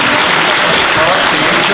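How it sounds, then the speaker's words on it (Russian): Lively applause from an audience at an IT student entrance event, a dense steady wash of clapping filling the whole stretch, with some voices mixed into the crowd noise. "О, аплодисменты."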